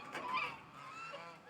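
Two geese sitting in a chicken tractor used as a quarantine pen give faint honking calls, brief and hoarse, over quiet outdoor background noise.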